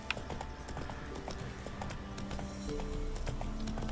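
Roach the horse galloping along Mill Road in The Witcher 3, a steady rhythmic clip-clop of hooves under game music, continuous and close.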